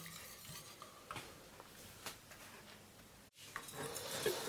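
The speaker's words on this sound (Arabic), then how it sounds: "نبقى نخلط فيها باش ما تلصقليش من التحت" A strawberry cream mixture stirred in a pot on the stove, soft scraping strokes and faint bubbling, quiet and close, with a brief pause before the stirring resumes slightly louder.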